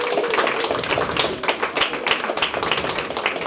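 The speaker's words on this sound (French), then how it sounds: "que je vous prie d'applaudir" An audience at an evening ceremony of an African craft fair in Paris claps steadily throughout, a close and continuous burst of applause.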